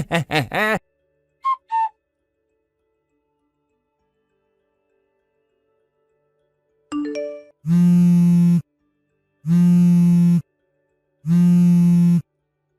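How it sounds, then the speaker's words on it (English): A phone ringtone sounds in three long, evenly spaced electronic rings near the end, each a sustained harmonic tone, after a mostly silent stretch with a few brief chirps at the start. "answer your dang phone! I gotta talk to you right now!"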